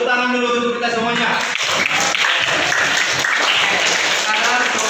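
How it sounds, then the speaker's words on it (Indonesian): A class of students applauds together, dense clapping filling the room steadily, with a voice speaking over the start. "tepuk tangan dulu untuk kita semuanya"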